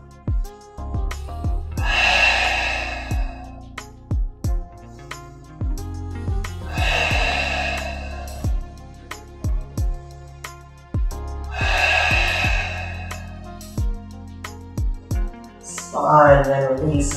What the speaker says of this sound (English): Three exhales through an open mouth.